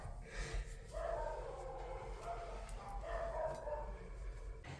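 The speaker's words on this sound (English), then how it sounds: "Can you guys hear my dogs freaking out?" Dogs in a house bark and yip in an excited, continuous burst, heard from another room at moderate distance.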